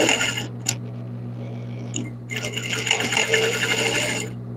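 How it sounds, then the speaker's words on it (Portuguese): A sewing machine stitches felt for a 24 cm bunny toy in two bursts of rapid, buzzing needle action separated by a short pause, close and clear. "Eu vou costurar até aqui."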